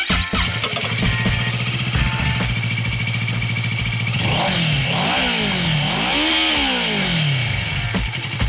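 Kawasaki Versys 650 Tourer motorcycle being ridden, its engine droning steadily and rising and falling in pitch as it revs up and eases off, with wind noise building midway through.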